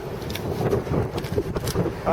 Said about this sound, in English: It's much too windy.